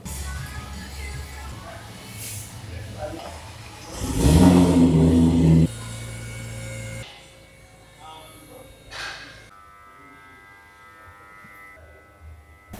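A powerful wide-body R32 Nissan GT-R drag car engine rumbles and then revs hard in a loud, roaring burst before settling back to a lower idle.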